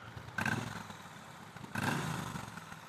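A Triumph Bonneville T120 motorcycle engine gives two short, quiet bursts of revving about a second apart, with a fainter running rumble in between.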